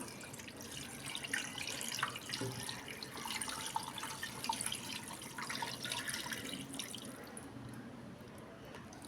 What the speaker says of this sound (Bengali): এই যে মশলা মাখা যে হাঁড়িটা ছিল এটার এটার পানি দিয়ে দিচ্ছি